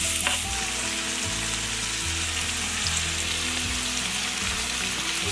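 Wild goat meat cooks in a covered pot over a campfire in Australia, giving a dense, continuous bubbling sizzle with a low steady rumble, close by and without voices.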